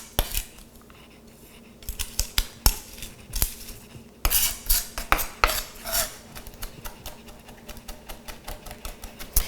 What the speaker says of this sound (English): I use the side of my knife to mash it.